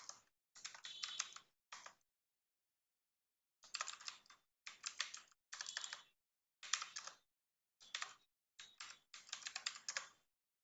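Quiet keystrokes on a computer keyboard while text is entered in MS Word, arriving in short rapid bursts separated by pauses, close and soft, with no voices.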